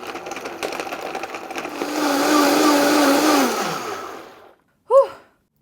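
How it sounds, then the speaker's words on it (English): A blender whirs loudly as it blitzes rice and coconut batter for Thai coconut pancakes, its motor rising to a steady high pitch before winding down and stopping, followed by a short sigh. "all you do is throw everything into a blender and blitz it up"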